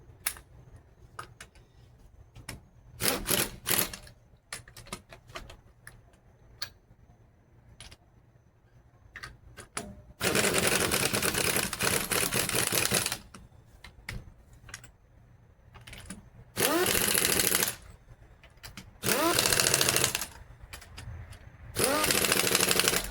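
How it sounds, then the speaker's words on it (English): A pneumatic air ratchet runs up bolts on the rear sway bar of a Ford Explorer in several loud, sustained bursts of a second or two, separated by quieter clicks and tool handling. "Run them up with air ratchet to save me time, because I can do it faster with air ratchet."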